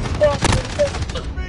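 Rapid automatic gunfire in Call of Duty: Modern Warfare, a dense burst of close, loud shots with a brief voice underneath.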